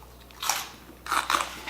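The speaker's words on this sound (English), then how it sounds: "I love raw cabbage, so crunchy." Someone bites into crunchy raw cabbage and chews, two loud crisp crunches followed by fainter munching, close to the microphone with no speech.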